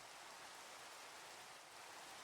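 Rain falls steadily in Minecraft, a faint, even hiss of downpour with no breaks or other sounds.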